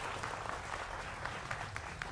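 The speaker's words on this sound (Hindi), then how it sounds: "जोरदार तालियों के साथ" A studio audience claps steadily on a Hindi television debate show about the Iran–Israel war, a dense, even wash of applause at moderate distance with no talk over it.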